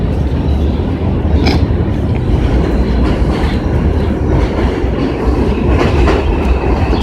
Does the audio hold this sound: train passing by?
yes